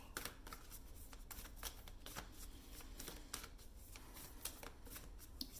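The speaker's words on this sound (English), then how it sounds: "I pre-shuffle the tarot cards." Dry, rapid riffling and snapping of tarot cards being shuffled, close up, with repeated bursts of crisp clicks and no talking.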